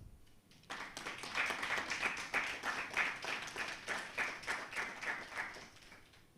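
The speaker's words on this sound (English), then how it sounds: "give the Honourable Minister another round of applause" Audience applause after a minister's speech at a webinar event: a burst of clapping that rises quickly, holds steady for several seconds, then fades away, moderately close and on its own.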